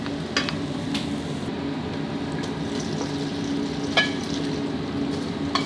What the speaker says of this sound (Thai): นี่้เราเจียวจนกระทั่งได้แคบหมูที่เหลืองกรอบตามความต้องการได้เลยนะครับ